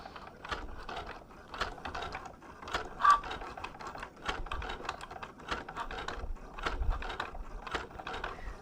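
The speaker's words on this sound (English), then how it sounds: "wonder if people really like listening to the sound of Cricut" A Cricut cutting machine drawing and cutting on a scrapbook project, its motor whirring steadily with rapid rhythmic clicks and ratcheting ticks as the carriage moves back and forth, close and fairly quiet, with no talk.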